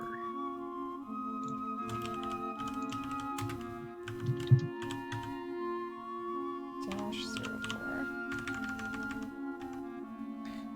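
Rapid clattering keystrokes on a computer keyboard come in bursts over a steady background tone and music, with pauses between runs of typing.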